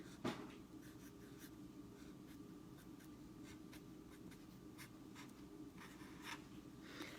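Pen writing a label on a cardboard egg carton for a seedling garden, a steady close scratching and rubbing that runs throughout with a brief louder stroke near the start, alone with no talk.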